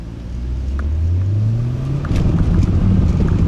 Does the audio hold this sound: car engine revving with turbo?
yes